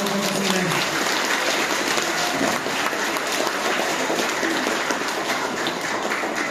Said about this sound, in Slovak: ešte jeden veľký potlesk pre hudobníkov a tanečníkov.